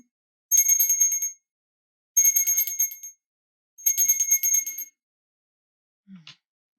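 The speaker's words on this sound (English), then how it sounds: "I am going to ring a bell to cleanse the energy." A bell is rung three times in a quiet room. Three bright, ringing bursts about a second each are separated by silent pauses, followed by a brief faint sound.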